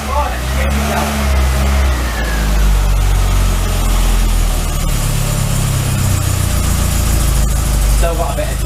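A classic Mini van engine idles loudly just after its first start with the choke still on, a close, rough, steady rumble running throughout as people speak nearby.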